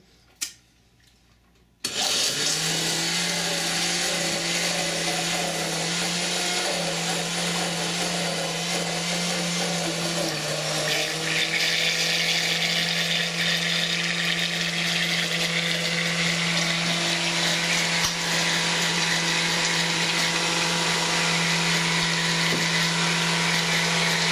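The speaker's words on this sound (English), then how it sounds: "Actually, if you want to start blending it, you can." Kitchen blender whirring loudly and continuously as it blends an ice cream mixture with honey, starting abruptly after a moment of quiet and running steadily with a slight drop in pitch partway through.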